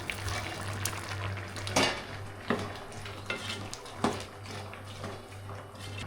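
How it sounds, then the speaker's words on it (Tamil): Meal maker gravy is stirred in a pot on the stove, with a spoon scraping and knocking against the metal at irregular intervals over a low simmering bubble and a steady background hum. "நல்லா ஒரு வாட்டி கிண்டி விட்டுடலாம் கிரேவி நல்லா கொதிச்சுக்கிட்டு இருக்கட்டும்"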